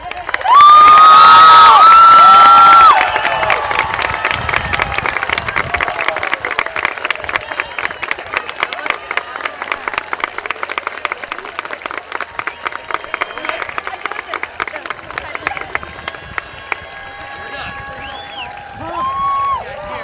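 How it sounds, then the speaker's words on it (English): Applause and cheering from a crowd at the Triton High School class of 2018 graduation, starting with a shrill whistle, then loud sustained clapping and shouts that gradually thin out, with a few more whistles near the end. "Please stand and applaud the graduates of the class of 2018 of Triton High School."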